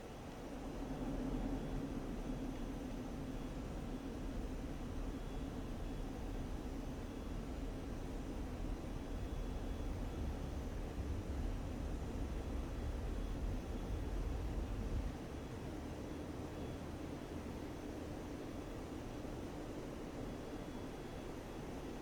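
Jet roaring on takeoff from an aircraft carrier in the DCS flight simulator, a steady loud broadband rumble with deep low-end thrust that holds for about fifteen seconds, then eases slightly.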